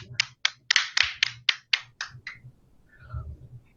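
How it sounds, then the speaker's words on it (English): A few people clap in a round of applause for a COVID-19 response coordinator, about nine distinct claps that fade out after two and a half seconds, followed by a faint voice. "Please help me put a warm welcome and a round of applause for our COVID-19 response coordinator, Diana Veronica Krishna."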